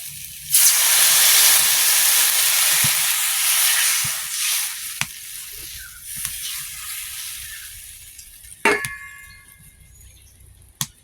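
Water poured into a hot pan bursts into a loud rush of hissing steam, then slowly fades, with a couple of sharp clinks near the end.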